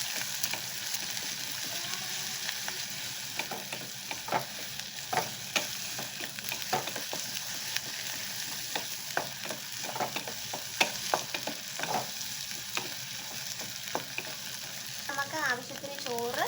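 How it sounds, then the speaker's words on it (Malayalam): Egg is scrambled and fried in a pan, a steady sizzle under rapid, repeated spatula taps and scrapes that continue for a long stretch. "നന്നായിട്ട് മുട്ടയൊന്ന് ചിക്കിയെടുക്കുക."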